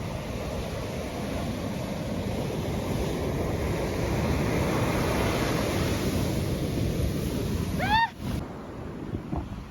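Strong ocean waves break on a windy beach with a continuous, loud, roaring wash, heavy wind buffeting the microphone, and a brief high chirp near the end.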